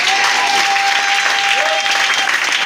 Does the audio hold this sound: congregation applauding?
yes